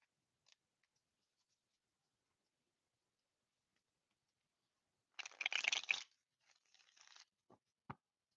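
Tarot cards are shuffled in one brief, faint riffling burst, followed by a few soft taps and a sharp click in a quiet room.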